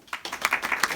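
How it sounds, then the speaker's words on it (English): Brief burst of clapping from a classroom of students, a few quick uneven claps over about a second. "Classe, applaudissez John."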